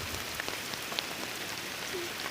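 Rain falls outdoors where cows are grazing in a downpour, a faint, steady patter on surfaces with occasional single drips and no voices.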